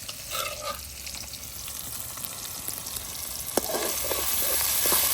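Ground spice paste sizzles and fries in a pan with onion and tomato, a steady close hiss broken by occasional stirring scrapes that grow louder toward the end.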